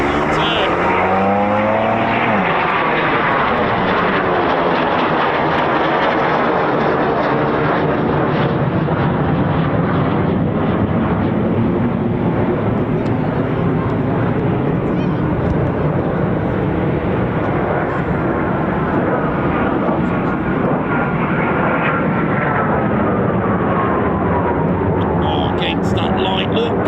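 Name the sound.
Eurofighter Typhoon FGR4 jet aircraft flying past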